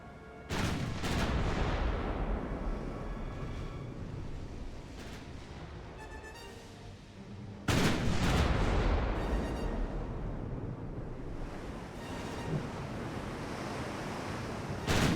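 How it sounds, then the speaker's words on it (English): Battleship guns boom in the naval game Ultimate Admiral: Dreadnoughts as several ships fire at once, with loud heavy blasts at about one second and again near eight seconds, over a constant roar like wind and surf. "with how many ships we have firing at that damn thing"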